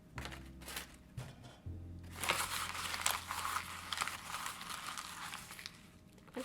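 Paper is squeezed and crumpled around a wire for a paper caterpillar craft, making soft, close crinkling and crackling that rises and falls at a low overall volume.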